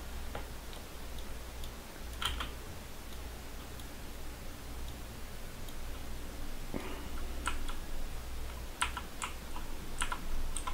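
Typing on a computer keyboard, entering values into fields: scattered, faint key clicks come in short irregular bursts over a quiet background hiss.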